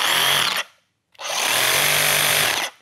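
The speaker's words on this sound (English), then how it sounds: "it seems like this FLEXVOLT recip saw" A DeWALT FLEXVOLT 60V reciprocating saw gives a short loud buzzing run, goes quiet for about half a second, then runs again at full speed for over a second, close up and alone.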